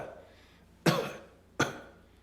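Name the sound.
nervous cough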